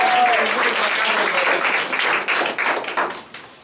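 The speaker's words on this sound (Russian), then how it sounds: "И аплодисменты для Небалет." A burst of applause fills the room, dense clapping at first that gradually thins and fades toward the end.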